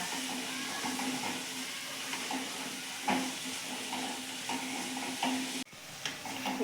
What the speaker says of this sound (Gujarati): હવે આપણે નાખીશું વટાણા